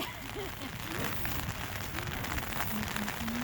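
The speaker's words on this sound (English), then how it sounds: "the rain still coming?" Steady rain falling on a car while it is being washed outdoors, a continuous hiss of drops on the surface with voices speaking over it throughout.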